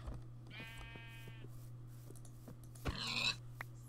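A sheep in Minecraft bleats twice, close and clear, over a steady low hum.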